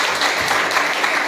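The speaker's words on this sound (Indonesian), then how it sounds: "Yang setuju tepuk tangan bagi aku." A church congregation applauding during a sermon, a dense, loud burst of clapping that holds steady and fills the room.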